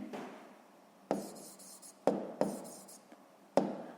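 Letters are written by hand with a pen or chalk: close, faint scratchy strokes with several sharp taps as the tip meets the surface, spaced irregularly across a few seconds.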